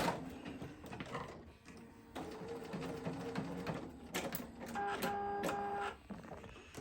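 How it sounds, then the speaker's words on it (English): A sewing machine runs back stitches on fabric for a mermaid tail pattern, a steady close mechanical whir with quick rhythmic needle clatter and brief pitch shifts as it reverses. "I'm going to do some back stitching on this just to make sure it's nice and tight and locked in"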